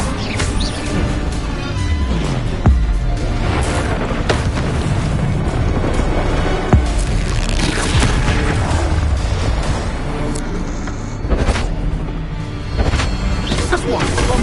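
Bombarda spell explosions in the Hogwarts Legacy video game: loud, booming blasts with sharp crashing impacts over a dense, continuous roar of battle noise, with voices mixed in.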